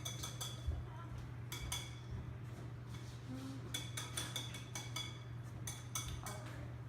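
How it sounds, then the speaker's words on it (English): Flour, baking powder and salt being stirred together in a bowl for brownies, with light clinks and taps of a utensil against the bowl in irregular bursts over a steady low hum. "now I'm going to mix the flour, baking powder, and salt"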